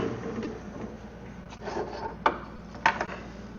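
A deburring tool scrapes the edges of freshly drilled holes in a custom-made hub, a few short rasping strokes over a low background hum with no talking.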